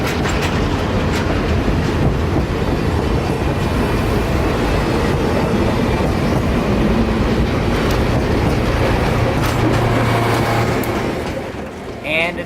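An ex-SAL GP9 locomotive hauls a Royal Palm Railway excursion train past on the S Line near Tavares, a loud, close roar of engine and rolling wheels with rhythmic clickety-clack that eases off near the end.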